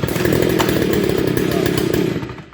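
Small gasoline engine of a new MT-003 mini cultivator, running loud and close with a rough, rapid buzzing drone after an easy start, then dropping away at the end.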